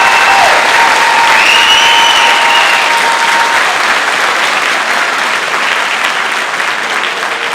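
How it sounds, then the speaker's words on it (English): A concert audience gives a band a round of applause, dense and loud clapping that holds steady, with a whistle or two near the start. "can we just have one more round of applause for them"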